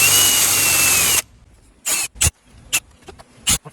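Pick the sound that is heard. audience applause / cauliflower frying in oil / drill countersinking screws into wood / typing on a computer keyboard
drill countersinking screws into wood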